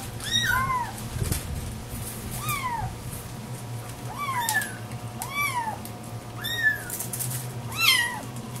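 A litter of four small kittens meowing repeatedly, high thin mews in an irregular series of about eight calls, fairly close, over a low steady background hum.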